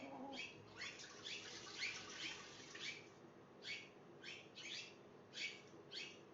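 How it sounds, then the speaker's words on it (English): Several birds chirp in short, repeated bursts, fairly close and lively, over a low background hum with no talking. "They can hear our birds. Yeah, they're loud."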